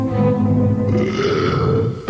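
One long, loud, guttural belch rolls on for about two seconds close up, deep and rumbling, ending with a short sharp sound.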